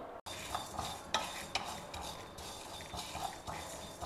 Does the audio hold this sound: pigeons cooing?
no